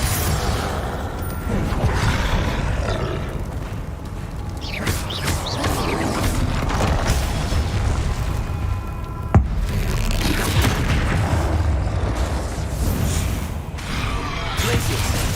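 Confringo spell blasts in Hogwarts Legacy, dense booming bursts and whooshes layered over continuous game combat noise, loud and close, with a sharp crack near the middle.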